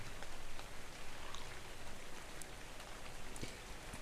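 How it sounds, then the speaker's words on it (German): Rain falls in the Dark and Light survival game, a dense, even patter of drops on surfaces that continues steadily at moderate volume, with no voices over it. "Und es regnet."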